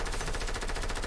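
A rapid, steady burst of SMG fire in a Fortnite-style shooter, loud and continuous for about a second with no talk.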